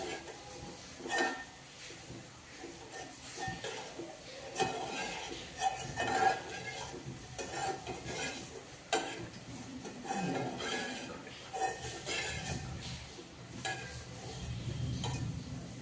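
Semolina being stirred into a strained tamarind and jaggery chutney in a pot, with soft scraping and spoon-against-pot clinks in an irregular rhythm, fairly quiet and close.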